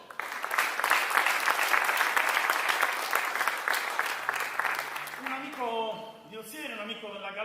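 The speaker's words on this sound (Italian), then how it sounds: "Vi chiedo un grande applauso per Matteo Dore" Audience applause rings out at a traditional logudorese guitar-song performance in Ozieri, dense clapping lasting about five seconds before fading as a voice begins talking.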